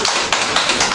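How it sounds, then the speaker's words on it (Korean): Children clapping together at a kindergarten puppet show, a dense, steady patter of many small hands, loud and close for about a second with no talking. "박수"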